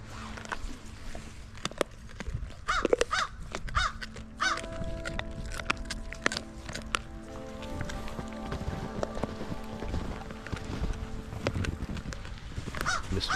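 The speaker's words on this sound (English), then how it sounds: "Got a crow in the tree behind me there." A crow calling from a tree behind an outdoor dog pack-feeding area, its harsh caws repeated at moderate distance among scattered clatter and background noise.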